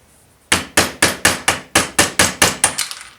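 A part being hammered out of a Hornby Ringfield motor clamped in a vise: about eleven sharp, ringing metallic blows in a quick, steady rhythm, close and loud, the last few lighter and faster.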